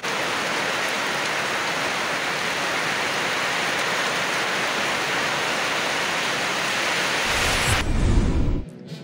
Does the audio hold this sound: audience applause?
no